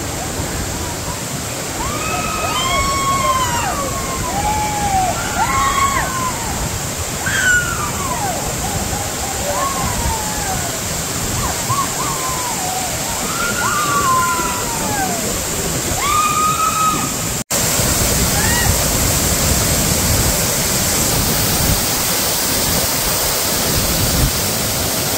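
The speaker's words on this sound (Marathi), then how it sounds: "आम्ही वज्राच्या धबधब्याला अगदी जवळपास आलेलोच आहोत." A steady broadband roar of rushing water from the Vajra waterfall fills the scene on a forest outing, with birds chirping repeatedly over the constant wash.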